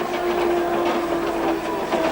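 A vintage Stuttgart tram from 1986 runs along street track in regular traffic, giving a steady, loud rolling rumble with a sustained motor whine and no voices.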